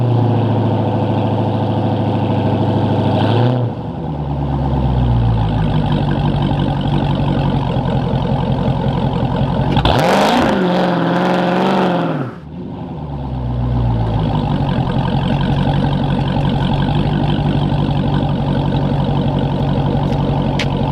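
Dodge Charger Scat Pack V8 idling loudly, then a sharp drop and a hard surge to a high roar during a launch control start, settling back to a steady rumble with another brief dip near the end.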